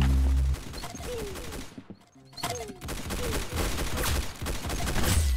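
Rapid gunfire in the online shooter game Arsenal, loud bursts of shots with a brief lull in the middle before the firing resumes, and a voice faintly present underneath.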